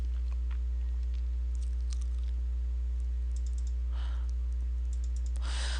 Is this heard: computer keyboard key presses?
yes